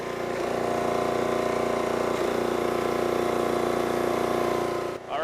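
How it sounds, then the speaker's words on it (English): A log splitter's small gas engine runs steadily at a constant loud drone and close by, cutting off abruptly at the very end, with no talk. "The engine will just start to bog, but not quite."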